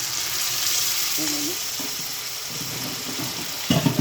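Water poured into a pan of frying liver and tomato, a steady loud sizzle and bubbling hiss that swells near the end as the liquid hits the hot pan.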